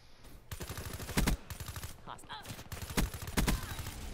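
Call of Duty gunfire: several loud bursts and single shots crack out in an uneven rhythm across a busy free-for-all match, with short gaps between volleys.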